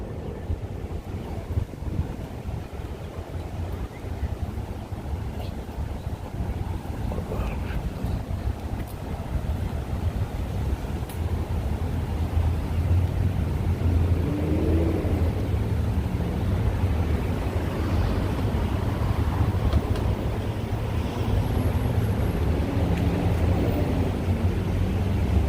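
Breezy evening wind blows outdoors along a street in Forest Hills, Queens, a steady loud rush buffeting the microphone for the whole stretch with no talking.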